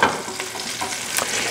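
Sausages browning in olive oil in a pan, giving a steady close sizzle and crackle with a few scraping stirs, no voices.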